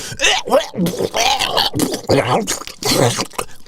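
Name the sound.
imitated underwater throat-cutting gurgle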